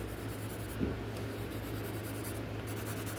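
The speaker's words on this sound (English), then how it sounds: "Let me test this pencil. This is a 3H." A 3H graphite pencil is scratched lightly across paper in a faint, steady test stroke, with one slightly louder touch early on and a soft hiss continuing throughout.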